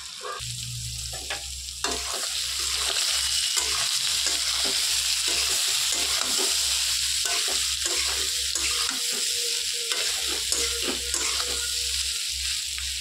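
Drained soybeans hit hot oil with turmeric in a pan for a vegetarian soybean and potato dish, giving a loud, continuous close sizzle with rhythmic stirring scrapes and a low rumble underneath.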